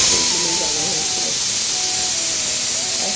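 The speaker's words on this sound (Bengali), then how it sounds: "এখন ডালটা সিদ্ধ হচ্ছে বলে সিটিটা বাজছে, আওয়াজ হচ্ছে।" A pressure cooker hisses loudly and steadily as lentils boil, its whistle blowing with a constant rush of steam and faint wavering tones, with a voice speaking over it.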